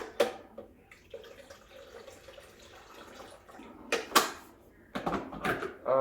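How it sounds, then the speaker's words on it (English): Water is poured into the tank of a Breville Barista Express BES870 espresso machine, a quiet, steady trickle framed by sharp clunks and knocks as the reservoir and lid are handled close by. "Just gonna add some water."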